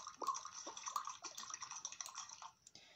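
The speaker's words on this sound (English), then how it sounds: "I'm gonna go outside and water my plants." Watering plants in the mobile game Toca Life World, a steady splashing water stream that pours continuously at close range, alone with no voices, and tapers off near the end.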